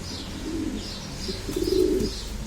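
A homing pigeon coos in soft, low throaty bursts, two or three rolling calls close by against a faint background hiss.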